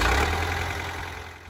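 A Ford 5000 tractor engine idles with a low, steady rumble, close and fairly loud, easing slightly quieter over a short stretch with no talk.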